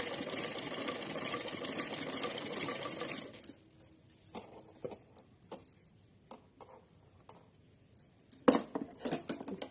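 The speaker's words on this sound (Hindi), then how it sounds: "एकदम इलास्टिक को खींचता हुआ सिलेंगे" A sewing machine stitches fabric with elastic pulled taut, humming loud and continuous for about three seconds, then stopping; soft handling clicks and rustles of cloth follow, with a sharper clink near the end.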